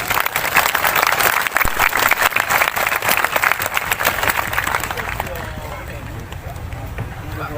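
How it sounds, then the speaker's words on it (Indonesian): Loud, dense audience applause at an Indonesian gathering marking a 42nd anniversary, held as a lively roar for several seconds before thinning out, with voices talking over it. "Tepuk tangan untuk Kerasakti."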